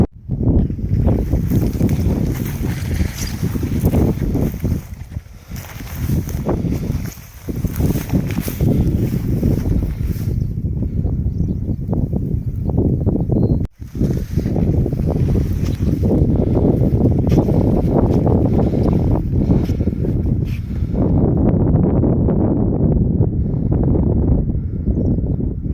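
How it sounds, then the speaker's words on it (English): Strong wind blowing across an open field near a remote small pond, loud continuous buffeting on the microphone with a brief drop in the middle, no talking. "Sorry about the wind."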